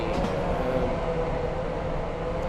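A train runs in the video game Running Train, a steady continuous rolling rumble with rail noise, moderately loud and unbroken, with no talking.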